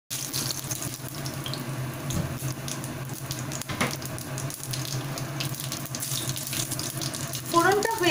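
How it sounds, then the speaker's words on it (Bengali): Dried red chillies and cumin seeds sizzling in hot oil while tempering a village-style fig curry, a close, steady hiss and crackle that continues throughout, with soft background noise. "তেল গরম হয়ে গেছে, গ্যাসটা সিম করে আমি এর মধ্যে দিয়ে দিচ্ছি দুটো শুকনো লঙ্কা এবং সামান্য জিরে ফোড়ন।"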